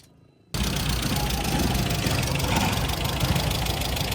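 A car engine, recently rebuilt, starts up and runs at idle with a knocking fault, a loud steady rumble with a faint repetitive tapping beneath it, close by and with no talking.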